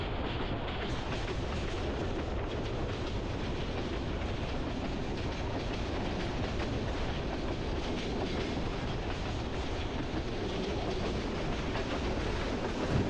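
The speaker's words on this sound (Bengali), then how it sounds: "ঝড়ের গতিতে ছুটে চলেছে তিস্তা এক্সপ্রেস ট্রেন।" The Tista Express passenger train on the Dhaka to Jamalpur route runs at full speed on rails, a loud, continuous rumbling roar with rapid clattering wheel beats heard from on board, no voices.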